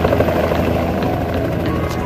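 A helicopter leaving after a film shoot gives a steady, loud rotor thrum with a fast pulsing beat, close and continuous for the whole short stretch.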